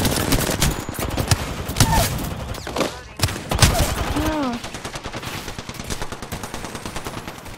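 Rapid bursts of automatic gunfire in the PUBG video game crackle loudly and close, followed by a long string of steady repeated shots, while voices chatter over the action in places.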